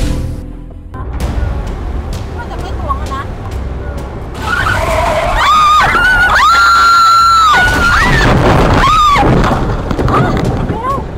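A woman screams loudly in sustained, piercing bursts while a car swerves off the road, with engine noise and skidding underneath and several more shrill cries near the end.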